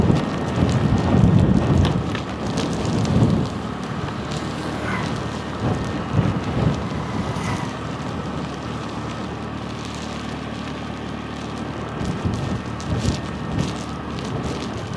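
Strong wind roars and gusts through the whole stretch while rain patters steadily, a dense, close storm noise with no voices, during a flooding rainstorm in Jaffna, Sri Lanka.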